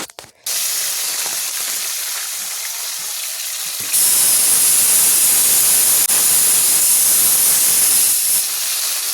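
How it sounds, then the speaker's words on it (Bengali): Fish frying in a pan, a steady loud hiss and sizzle that swells sharply partway through and holds strong with no talk. "তো এবার মাছগুলো ভাজতে বসিয়ে দিয়েছি"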